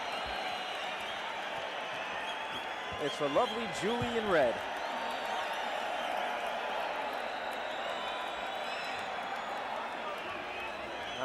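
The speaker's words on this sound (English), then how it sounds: "And now the crowd roaring even more, and it's not for Tyson, it's not for Zouski." A crowd at a Mike Tyson boxing match roars as a steady, loud wash of noise while a commentator talks over it.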